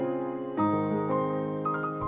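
Soft sustained synth tones layered together in a beat, with a few new notes entering gently at lowered velocity over a held chord; quiet and smooth, no talking.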